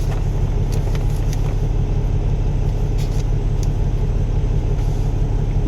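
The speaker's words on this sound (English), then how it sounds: "Truck's running" An International Prostar truck engine idles steadily at close range, a continuous low rumble with a faint electrical fault noted, holding an even level throughout with no talking.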